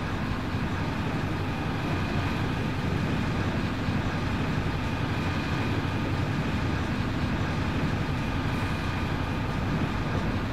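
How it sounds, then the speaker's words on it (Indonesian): An Indonesian passenger train, the extra Jatiraja service, runs straight through a station without stopping, sounding its horn signal as it passes. Dense, steady rumble and rail roar fill the whole stretch, with a sustained tonal horn layered on top. "Semboyan 35-nya terdengar sangat jelas ya."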